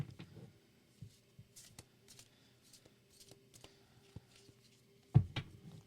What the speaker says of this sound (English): This one's really hard for me to shuffle.